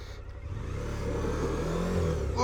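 Suzuki V-Strom 1000 motorcycle engine revving hard off-road on a hillside, a loud, close, steady mid-pitched roar that builds in intensity toward the end, with no talk.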